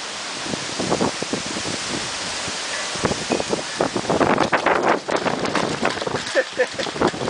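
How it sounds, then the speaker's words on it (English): A strong storm wind gusts hard across a driveway, a roaring rush broken by scattered rattling clatters of flattened cans blown about. The clatters grow busier as the wind picks up. "All the flat cans on the driveway are blowing all over the place."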